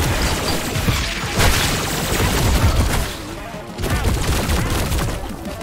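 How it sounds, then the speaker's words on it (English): Dense, loud gunfire in the sci-fi shooter game High On Life, with sustained rapid bursts and heavy impacts packed together, briefly dipping around the middle before resuming. "Who is shooting me?"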